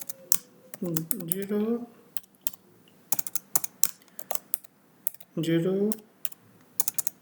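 Keys clatter on a computer keyboard in quick, irregular bursts of clicks while someone speaks briefly twice between them, close and fairly quiet.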